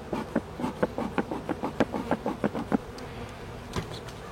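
Honeybees buzz at an open hive being smoked, a dense hum pulsing in quick irregular bursts near at hand, easing off toward the end with a few scattered sounds.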